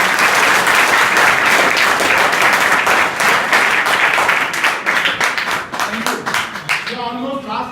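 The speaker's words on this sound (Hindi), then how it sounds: "इनके लिए ताली बजाओ जोरदार।" Students at a school adolescence education session applaud loudly, a thick, sustained burst of clapping that gradually thins out toward the end as a voice begins speaking.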